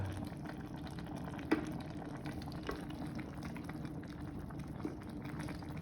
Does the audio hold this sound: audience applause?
no